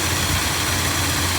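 A 1962 Dodge D200 truck engine idles in a steady low rumble, close and continuous with no voices.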